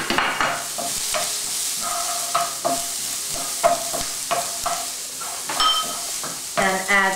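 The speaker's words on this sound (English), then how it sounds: "I'm going to put in some cumin seeds. I love them to splatter really fast." Cumin seeds and red onions hit hot oil and sizzle and spatter briskly, with rapid crackling bursts and scraping stirs close by, while cabbage rice is being cooked.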